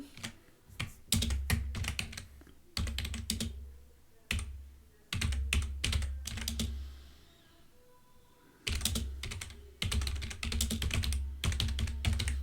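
Rapid clattering keystrokes on a computer keyboard in bursts of fast typing with brief pauses, close and fairly quiet, no voices.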